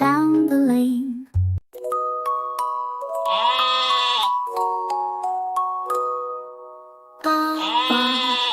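Sheep bleat in a nursery-rhyme song, a wavering cry opening the passage and another near the end, with sustained musical tones and chimes between them.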